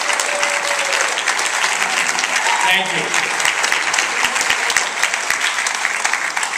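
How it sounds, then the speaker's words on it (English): A crowd applauds loudly and continuously at a graduation ceremony, a dense wash of clapping with a voice briefly speaking over it. "Give them an applause."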